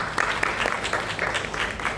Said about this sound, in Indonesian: kita berikan tepuk tangan untuk grup A